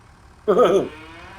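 A single short cow moo from the farming video game Farming Simulator 25 sounds clearly, loud and close, against a quiet low background hum.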